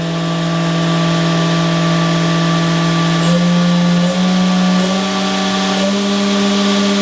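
A Haas VF4SS CNC mill with through-spindle coolant runs its spindle at 10,000 RPM, a loud, steady, close mechanical whine with layered tonal hums, the pitch stepping up slightly partway through.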